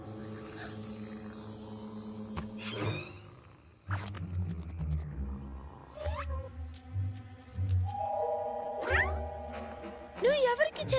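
Cartoon cat meowing in an animated comedy, several rising, wavering cries scattered through a busy mix of music and dialogue, with voices talking throughout.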